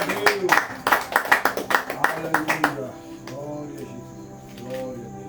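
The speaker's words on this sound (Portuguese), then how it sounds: "Pode aplaudir ao Senhor e Salvador Jesus Cristo." Church congregation clapping in quick rhythmic bursts during a worship service, sharp claps for a few seconds before giving way to sustained voices or music.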